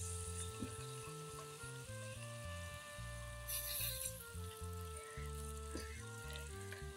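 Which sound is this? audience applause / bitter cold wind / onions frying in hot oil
onions frying in hot oil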